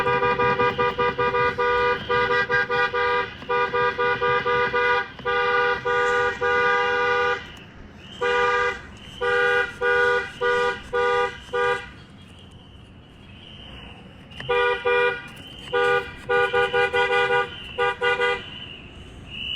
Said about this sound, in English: the honking, the whistles in the background, this is what we keep seeing.